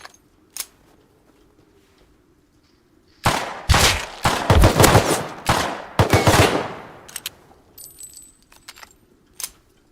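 Gunfire in the survival game Rust rattles out in loud bursts of rapid shots, with scattered single shots and clicks before and after in a quiet snowy setting.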